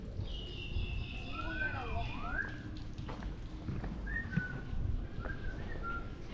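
A bird in a floating village gives several clear rising and falling whistles, close and loud, with short gaps between them, over a murmur of background activity and some faint voices.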